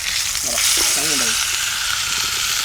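Fish fries in a pan with a loud, steady, close hiss of sizzling oil throughout, while a faint voice murmurs briefly in the background.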